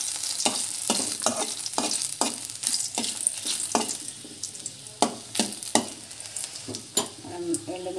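Tempering spices, dried red chillies with mustard seeds and cumin, fry in hot oil for pachi pulusu, a steady close sizzle broken by repeated scraping stirs and sharp bursts of spattering.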